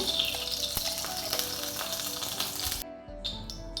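Continuous crackling sizzle of about two spoons of ghee frying in a pan, loud and close, cutting off abruptly near the end before a faint clatter.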